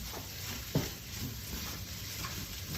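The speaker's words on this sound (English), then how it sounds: "Just stir them in." Chicken pie filling being stirred with spices in a pan, a soft steady scraping and faint sizzle close by, with one sharper knock of the utensil against the pan partway through.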